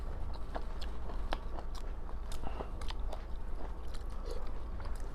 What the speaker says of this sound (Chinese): 这血肠真挺好吃